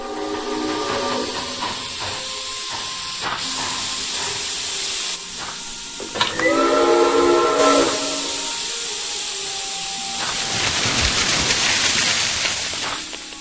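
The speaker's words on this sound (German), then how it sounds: "Das Pfeifen bedeutet, dass die Schneepfluglok aus Brod angekommen ist." A snowplough locomotive arriving at a stalled train in an Agatha Christie mystery game gives long, loud steam whistle blasts over a steady hiss of steam and rail noise, with no talk.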